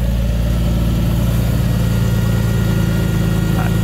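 Classic convertible car engine idling up close, a steady low rumble with an even throb and faint mechanical hum, running alone without talk.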